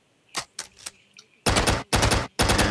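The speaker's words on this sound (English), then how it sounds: "I have a gun." Gunfire in the Hatchet flash video game: three short isolated shots followed by three longer, dense bursts of rapid fire, loud and close, with a brief faint sound between them.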